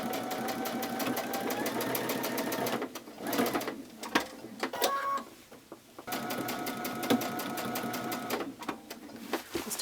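A sewing machine stitches a scalloped edge on woven fabric, running steadily and close by. A brief pause around the middle brings scattered clicks and handling sounds before the stitching resumes.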